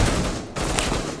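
Shotgun blasts in the video game Rainbow Six Siege, two loud close booms about half a second apart with no talking.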